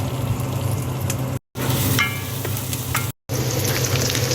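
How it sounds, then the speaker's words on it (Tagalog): Chopped garlic sizzles and fries in a hot pan for chicken adobo, a steady close crackle with stirring scrapes, briefly cut out twice. "ilalagay ko na ating bawang"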